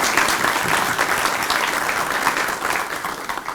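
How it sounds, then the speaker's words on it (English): An audience at a press conference claps in a dense, sustained round of applause that eases slightly toward the end. "we'd like to give them a round of applause for joining us today"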